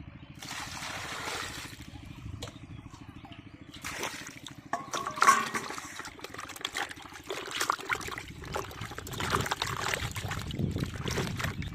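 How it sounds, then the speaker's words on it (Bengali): Fresh water splashes and trickles into a bowl of pumpkin pieces, with some clattering and sloshing as it fills, fairly close by. "এর মধ্যে এখন ভালো পানি দেবো,"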